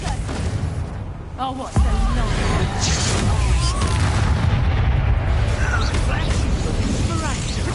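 A Confringo explosion spell in Hogwarts Legacy during a fight: a sudden loud boom opens into a sustained roaring rumble with scattered crackles and effects, while a voice speaks briefly before the blast.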